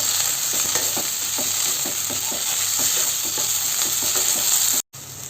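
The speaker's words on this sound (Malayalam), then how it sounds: "ഇതിനെയും കൂടി ഒന്ന് ഇളക്കി യോജിപ്പിച്ച് കൊടുക്കാം" Sliced okra and salted boiled potato are stirred together in a frying pan: a loud, continuous sizzle with a regular run of spatula scrapes and taps, broken by a short gap near the end.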